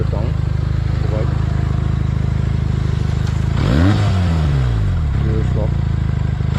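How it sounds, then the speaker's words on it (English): The engine of a Benelli 302R motorcycle idles with a loud, close, steady rumble, then rises in one short rev near the middle before settling back to idle. "let me show you the sound of the bike"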